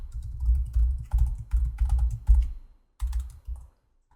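Keys clack on a computer keyboard in quick bursts of typing, close and clear, with short pauses between groups of strokes and no talking.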